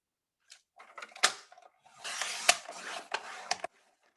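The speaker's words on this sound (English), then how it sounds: "Now I'm going to have to bring in the big die cutter." A big die cutting machine slices through paper at a crafting table: a few sharp mechanical clicks and knocks, then a louder, sustained crunching press with clacks, close and alone.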